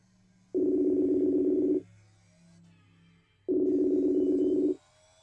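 Ringback tone of an outgoing Facebook call: two long, steady electronic tones, each just over a second, separated by a quiet gap of faint background hum.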